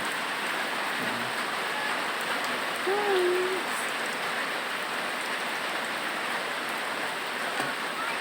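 Steady rain hisses evenly throughout, with a faint hoot-like call briefly rising above it midway.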